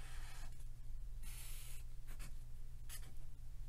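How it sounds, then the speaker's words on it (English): Marker strokes drawing a V-shape on a board, a few quick scratchy swipes close by over a steady low hum. "So let's draw a V-shape here."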